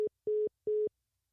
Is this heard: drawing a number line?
no